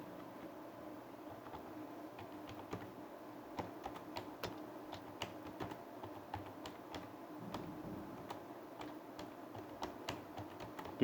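Faint, irregular tapping of computer keyboard keys while text is typed, soft individual clicks over a quiet background hum.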